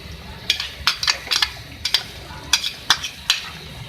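A spoon stirs chicken and turai curry mixed with chopped fresh coriander in a pan, producing a run of sharp scraping clinks in a steady rhythm over a low sizzle, loud and close.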